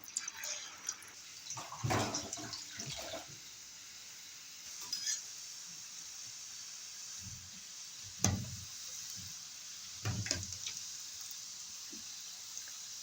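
Steady hiss of pastry frying in hot sunflower oil, with a few soft knocks and clatters rising over the constant frying noise.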